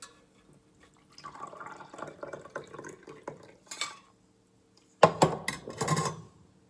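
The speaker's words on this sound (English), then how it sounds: "I'm straining this water now." Cooled cumin seed water is strained in a home kitchen, heard as soft trickling and clinking of utensils against a vessel, then a louder burst of splashing and knocks near the end, close and fairly quiet.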